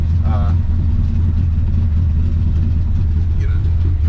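A 1966 GMC pickup truck engine running at a steady low idle, a loud continuous rumble close by with a faint squeak or two over it.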